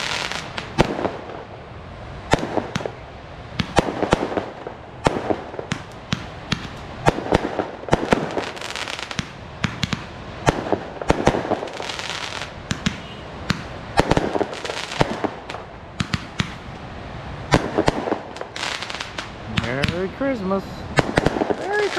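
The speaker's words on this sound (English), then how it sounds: "A fireworks show on a fracking beach." Fireworks show over a beach on Independence Day, a steady run of loud booms and crackling bursts throughout, with people talking and exclaiming underneath.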